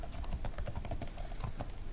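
Code goes into a computer keyboard as rapid, closely spaced key clicks in a continuous run, near and moderately loud with no voice over them.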